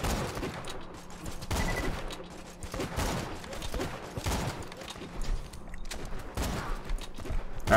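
Gunfire from the video game Borderlands 2 crackles as a steady run of rapid shots at moderate loudness, with faint scattered effects in between.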